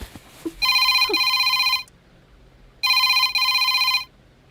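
Two long electronic rings from a telephone, each lasting about a second with a brief break partway through, sound loud and close against a quiet room, separated by a short silence.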